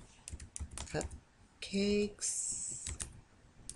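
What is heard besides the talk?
typing on a computer keyboard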